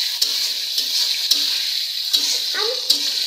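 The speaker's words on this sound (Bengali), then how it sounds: "টমেটোগুলো একটু তেলে ভেজে নেব।" Tomatoes frying in oil: a steady, bright sizzle with faint clinks of stirring and brief murmured speech.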